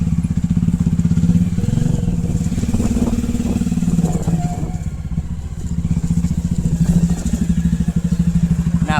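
A Royal Enfield Bullet motorcycle engine runs steadily throughout, a loud, continuous low thumping with some clatter and small shifts in pitch.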